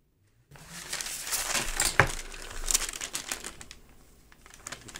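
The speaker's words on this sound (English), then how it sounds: "now I'll take silicone release paper, put it right here, and I'll go flat over the book" Silicone release paper laid flat over a comic book crinkles and rustles in close, uneven bursts, with a sharp crackle midway and softer handling noises trailing off.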